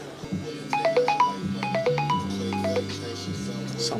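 An Android phone ringtone plays a repeated bright melodic pattern in a barbershop on a busy cutting day, over low room noise and background murmur.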